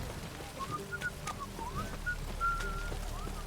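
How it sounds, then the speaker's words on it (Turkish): Whistling in The Witcher 3: Wild Hunt on a rainy night, a series of short melodic whistled notes over low game ambience. "Evet ıslık çalalım."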